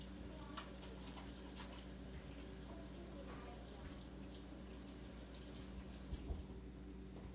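Hands are rinsed under a running kitchen tap, a faint, steady stream of water splashing softly and continuously over a low background hum.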